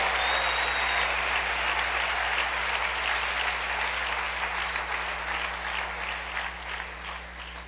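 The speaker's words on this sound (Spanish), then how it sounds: "Dale un fuerte aplauso al Rey." Church congregation applauding in worship, a dense, loud wash of clapping over a steady low hum, holding strong before slowly tapering toward the end.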